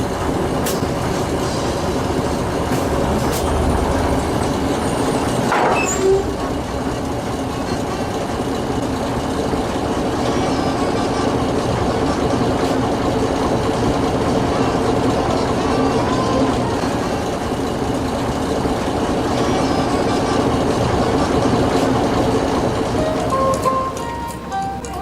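Chemin de fer de la Vendée locomotive at a terminal, a continuous loud rumble of rail movement with clanking and occasional brief wheel squeals, a sharp knock around midway, and faint voices in the background.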